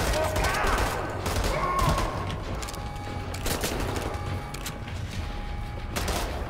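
Pistol gunfire in the shooter game Wolfenstein: The New Order, a dense run of rapid shots and mechanical clatter over the game's background noise, with a voice talking over parts of it.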